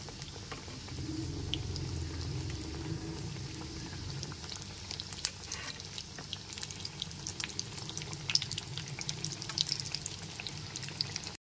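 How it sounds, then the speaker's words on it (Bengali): Steady bubbling sizzle of khaja pastries frying in oil over a low-to-medium gas flame, with scattered pops and crackles throughout and no talking. "খাজাগুলো ভাজার সময় গ্যাসের ফ্লেমটা লো টু মিডিয়ামে রেখেই ভেজে নিতে হবে"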